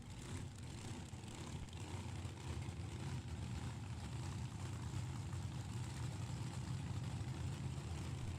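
Two loud drag racing cars sit idling at the start line, a steady deep rumble holding at constant level throughout with no clear revving, fairly distant and continuous.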